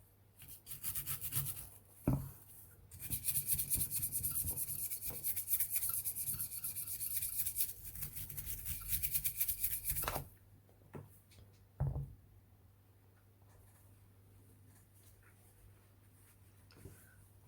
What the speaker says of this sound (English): I will brush just to loosen up anything that's built up on it.